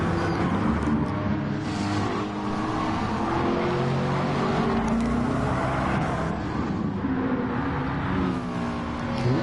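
Several race cars battle closely on a track in a PS4 racing game, engines droning and revving continuously and loudly throughout, with layered overlapping engine tones and no talk.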